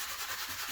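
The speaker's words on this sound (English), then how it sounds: "is the best way to do it, especially with the foam sanding paper" Soft, rhythmic rubbing and scratching of foam sanding paper working across plastic on an RC4WD 1987 Toyota Xtracab scale model, in quick, steady strokes, close and fairly quiet.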